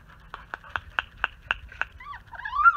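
A litter of young puppies, a girl and a boy, gives a run of about seven short, evenly spaced yips, then breaks into thin, wavering whines; close and fairly quiet, with no talking.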